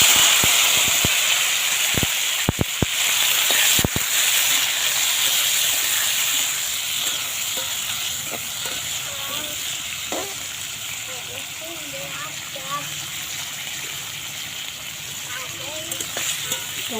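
Chopped tomatoes added to a pan and frying with chilli, a loud continuous sizzle and hiss with a few sharp clatters near the start, fading slightly as it goes on, a voice speaking over it.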